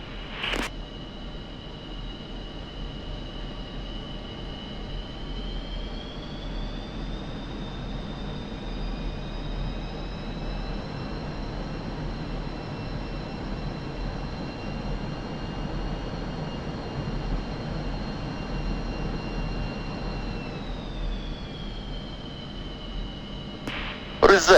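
Twin MiG-29A Fulcrum jet engines idle in DCS World, a steady whining hum with a high tone that rises slightly and then eases back, continuous and even throughout, ending with a couple of faint clicks.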